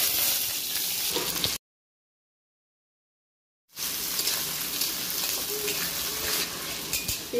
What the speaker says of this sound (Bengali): পেঁয়াজ হালকা করে একটু ভেজে নিয়েছি